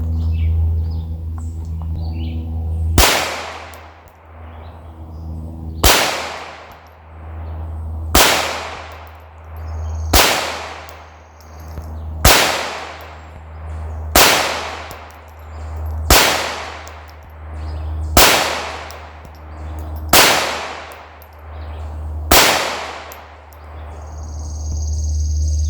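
A .22 pistol firing Federal ammunition at an orange clay target 100 yards away outdoors: ten sharp, evenly spaced shots about every two seconds, each with a short ringing decay, over a steady low background hum.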